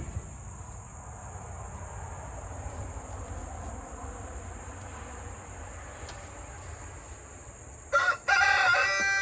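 Chickens in a coop grow loud ahead of feeding time, steady clucking and calls over a constant high insect-like drone, with a brief burst of sharper squawks near the end.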